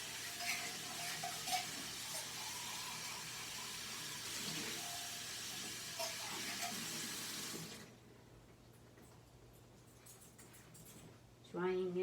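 Water runs from a faucet into a French press container being rinsed with dish soap, a loud steady hiss for about eight seconds before it cuts off to near quiet and a voice speaks.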